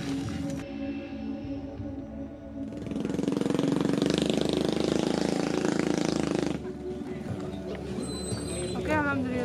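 A motorcycle engine runs as sacks of rice are loaded onto it in a remote village, a steady rumble that swells loudly for several seconds mid-way, with people talking over it.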